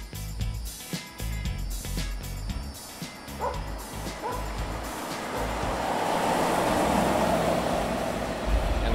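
A Ford Galaxie 500 XL convertible cruises with a low engine rumble and rising wind rush as it picks up speed, while a dog barks and yips repeatedly over it early on.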